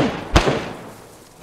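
A single sharp gunshot from the survival shooter DayZ, loud and near, then a short fading tail with no voices.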